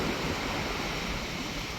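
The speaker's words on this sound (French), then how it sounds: "regardez les vagues" Ocean waves break at Teafa park in Polynesia, a broad, steady wash of surf with some wind noise on the microphone, heard alone without talk.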